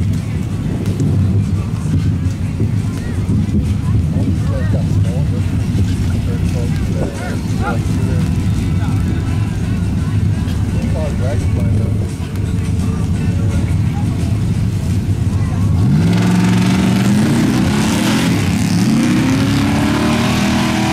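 The Swamp Rat mud drag truck makes its first pass at a street rod class mud drag race: a loud, continuous engine roar throughout, rising into higher revving sweeps near the end, with an announcer talking over it.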